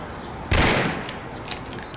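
A gunshot in the video game Mafia lands as a single loud, booming blast with a rumbling tail, followed by a few faint clicks and thuds, with no talking.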